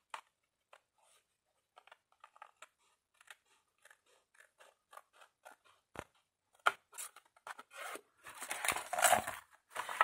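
Scissors snip through paper or card for a scrapbooking drawer organizer, sparse quiet cuts at first, then denser, louder crunching snips and paper handling near the end.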